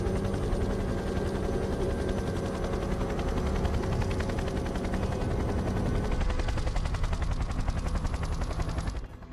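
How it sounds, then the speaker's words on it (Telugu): A loud, continuous rotor throb with rapid rhythmic chopping fills the air, steady and close throughout, cutting off abruptly near the end. "Helicopter sound వినపడుతోంది. అది హెలికాప్టర్ శబ్దం అనుకుంటా."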